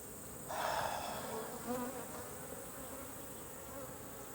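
Honey bees buzzing around an opened hive after a new queen is introduced, a dense, continuous drone that swells sharply at the start, then settles into a steady hum, close and fairly quiet, with no speech.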